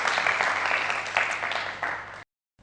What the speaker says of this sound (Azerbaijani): Alqışlarla yola salırıq